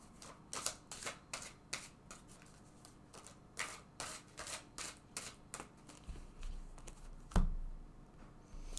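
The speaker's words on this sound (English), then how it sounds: "Let's take a card from each of these decks." Tarot cards drawn and shuffled from several decks, a rapid run of crisp riffling flicks and taps, close and steady, with a heavier thump near the end and no talking.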